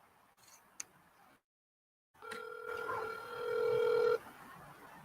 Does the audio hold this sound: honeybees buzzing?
no